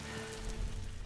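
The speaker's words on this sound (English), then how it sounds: "The rain is so loud." Heavy rain in The Last of Us Part 2, a loud, dense, continuous patter on surfaces filling the whole moment with no voices.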